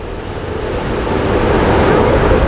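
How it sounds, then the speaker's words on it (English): Strong wind buffets the microphone at the very front of the ferry MV Caledonian Isles at sea, producing a loud, broadband roar that swells slightly over a few seconds, with no clear talking. "It's quite windy, a little bit windy."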